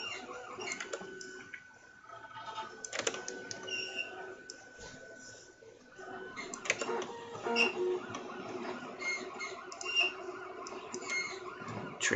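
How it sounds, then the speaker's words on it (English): A noisy printer runs with one bearing making noise, giving a busy stream of clicks, ticks and whirring mechanical chatter that stops briefly and then starts again, fairly close and steady throughout. "Wow, that printer is noisy."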